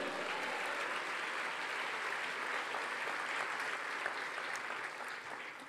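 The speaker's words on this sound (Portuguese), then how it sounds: "Você pode aplaudir o nome do Senhor?" A church congregation applauds together in a sustained, dense wash of clapping that holds steady for several seconds, then begins to fade slightly at the end.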